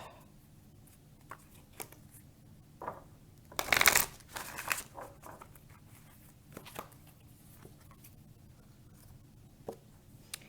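Oracle cards being shuffled by hand, a dense burst of riffling near the middle followed by scattered soft flicks and rubs, quiet and close with no talk.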